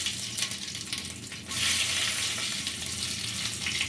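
Mustard seeds dropped into hot oil for a ginger curry, a steady hiss that swells suddenly into a louder, brighter sizzle halfway through and keeps crackling close up.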